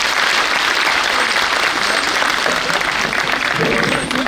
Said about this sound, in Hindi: आइए माँ का स्मरण करते हुए एक बार दोनों हाथ उठाकर तालियां बजाते हैं